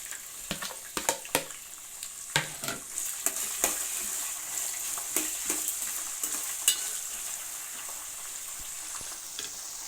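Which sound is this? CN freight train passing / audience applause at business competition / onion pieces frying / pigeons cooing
onion pieces frying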